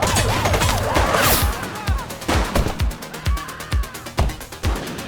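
Video game gunfire in The Precinct, a police game, a run of sharp shots in an uneven rhythm, some close and punchy, over a wailing police siren and scattered game effects.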